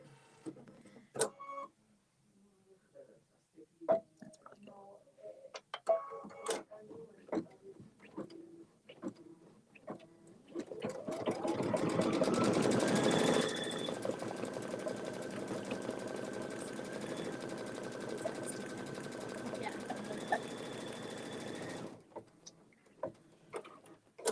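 An embroidery sewing machine stitching a Kimberbell fill-in-the-blanks tote on sticky stabilizer, a steady loud mechanical whirr with a rising tone lasting about twelve seconds, preceded by scattered clicks and handling noises and ending abruptly.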